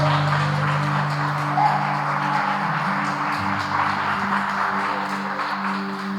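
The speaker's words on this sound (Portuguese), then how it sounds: "Então, pode aplaudir o Senhor." Church congregation applauding during a Portuguese-language family worship service, a soft, steady wash of clapping from a room of people over a sustained background tone, moderately distant.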